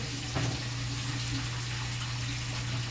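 Tap water runs steadily into a kitchen sink while produced is rinsed by hand for a Sunday morning cooking session, a continuous close hiss with no talking.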